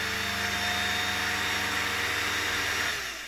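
A loud, steady whirring vintage 1992 Royal Dirt Devil model 150A vacuum cleaner motor starts and roars with a droning hum and hiss, then starts to wind down at the end.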